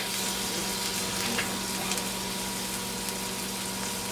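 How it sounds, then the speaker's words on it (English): Carrots sizzling in oil in a hot pan for a scallop stir-fry with peppers and broccoli, a loud, dense, constant frying hiss with little variation. "I'm going to throw the carrots in, because those take a long time to cook."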